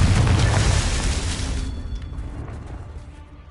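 A fiery Confringo spell blast from Hogwarts Legacy erupts in a loud, close boom that rolls into a crackling rumble and slowly fades over a few seconds, with no voices.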